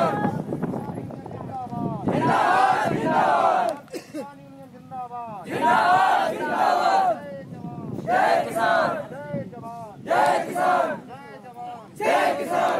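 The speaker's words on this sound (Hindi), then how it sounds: "किसान यूनियन के बैनर तले प्रदर्शन।" Villagers protesting under a farmers' union banner at a power station, a loud crowd chanting and shouting slogans in repeated surging bursts, with a voice leading and the group answering.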